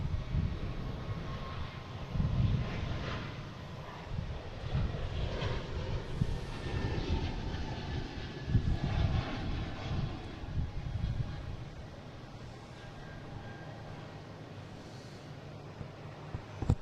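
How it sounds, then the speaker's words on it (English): JetBlue airliner, flight 2065 bound for Fort Myers, at Boston Logan airport: a steady broadband engine roar that holds fairly loud for the whole stretch, with low rumble and a slight swell midway, no voices. "we have a JetBlue heading to Fort Myers, flight 2065."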